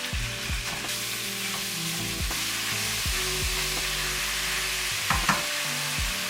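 Pork sizzles steadily in a hot wok with garlic and char siu, with regular scraping stir strokes of a spatula throughout and a louder clank near the end, close and continuous.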